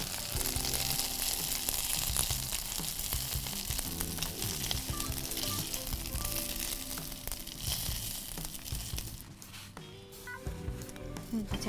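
Minced chicken fries in a pan during chicken chow mein cooking, a loud, steady sizzle running throughout with scattered clinks and stirring scrapes.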